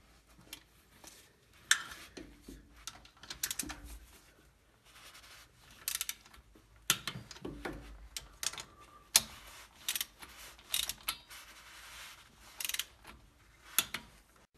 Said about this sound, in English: just make sure you keep that star pattern the whole time, so you're snugging that differential cover down evenly the whole time